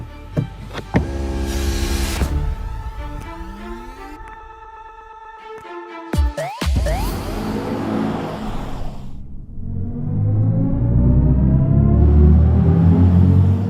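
Synthetic whirring drive tones from a BMW i5 electric car in sport mode that rise and sweep in pitch, layered with electronic swells and a few sharp hits, loud and close.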